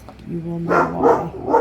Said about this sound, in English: You will hear my dog barking